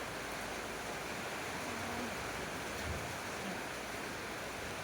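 Rain falls at a village home in Thailand while water runs off in streams, a steady, even hiss of rainfall with no break, fairly faint and continuous.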